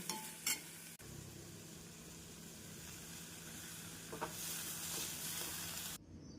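Chow chow kootu with grated coconut gets stirred in a pan, a soft continuous sizzle with faint scraping strokes and a brief clink near the start, fairly quiet throughout.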